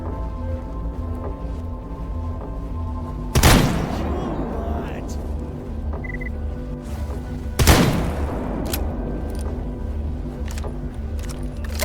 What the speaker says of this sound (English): Those gun sounds too.